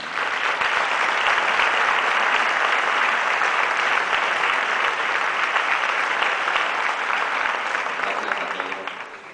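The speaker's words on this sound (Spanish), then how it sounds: "Un aplauso para él." A concert audience at a music band event in San Javier applauds steadily and loudly for several seconds. The dense clapping holds even throughout, then fades out at the end.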